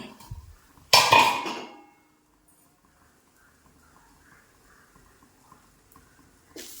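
Metal lid lifted off a cooking pan while making egg appam: one sharp clattering clank, followed by quiet room tone and faint stove noise.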